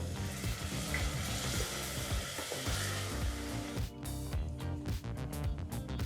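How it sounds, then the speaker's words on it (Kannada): Tomato puree sizzling in a hot pan while being stirred for a radish gravy, a steady close frying hiss with scraping stirs toward the end. "ಆ ಟೊಮೆಟೊ ಪ್ಯೂರಿನ ಹಾಕಿ ಒಂದು ನಿಮಿಷ ಬಿಸಿ ಮಾಡಿ ಮಿಕ್ಸ್ ಮಾಡಿದ್ರೆ ಸಾಕಾಗುತ್ತೆ"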